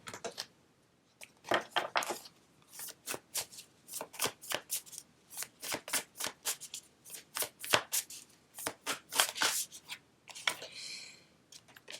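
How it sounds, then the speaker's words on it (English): Tarot cards are shuffled in quick, crisp riffling bursts. Each burst is a short papery flutter, with brief pauses between them and one longer softer rub near the end. The sound is close and quiet, with no voices. "I'll just pull cards."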